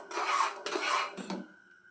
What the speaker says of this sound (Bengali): তেলটাকে খুব ভালো করে মিশিয়ে দেব